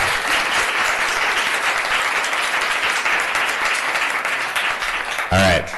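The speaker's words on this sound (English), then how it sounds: "we do ask for no cheering or jeering in council chambers" Applause and cheering fill a city council chamber during a meeting, a loud, sustained roar of clapping from the audience that runs almost the whole time before a voice cuts in briefly at the end.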